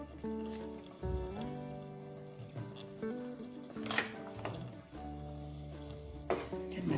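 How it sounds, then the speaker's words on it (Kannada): Masala with chili powder and green chilies fries in a pan for an egg gravy, a steady sizzle with a few stirring scrapes running beneath louder melodic background music. "ಮಸಾಲೆ ಎಲ್ಲ ಸ್ವಲ್ಪ ಚೆನ್ನಾಗಿ ಫ್ರೈ ಮಾಡ್ಕೊಳ್ಳೋಣ"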